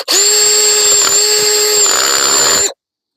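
A 4-inch chainsaw attachment mounted on a power drill cuts through a quarter-inch sapling, giving a loud, steady high-pitched whine with a buzzing chain rattle that runs unbroken for almost three seconds and then stops abruptly.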